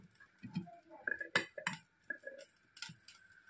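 Metal clinks and clatter as a pot is handled and covered with a lid while baking a cake on a stovetop, a series of short sharp taps and rattles at close range, fairly quiet overall.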